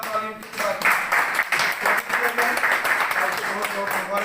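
Dense, sustained applause from a gathering honouring a newly elected district council member from the Kakapora seat in Pulwama with a shawl. The clapping runs steadily throughout, with voices mixed in.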